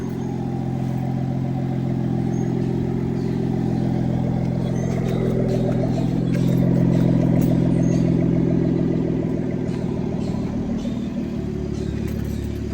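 A BMW 440i with a big-turbo B58 engine idles and runs steadily at close range, a deep continuous rumble with slight swells and clattery texture and no talk.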